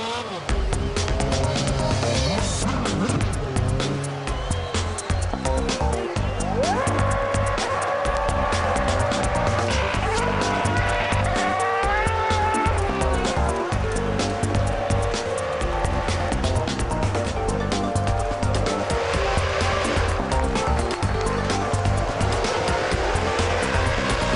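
McLaren Formula 1 car driven at the Goodwood Festival of Speed, engine note rising and falling continuously through gear changes, loud and close, with tire squeal and crowd ambience.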